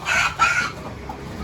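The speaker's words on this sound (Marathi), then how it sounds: "शापूर घेगाववरून कोंबडे आलेत गावठी" Village roosters and hens brought in from Shahapur Ghegaon crow and cluck loudly and close by, two bursts of crowing followed by quieter clucking, with no talk over them.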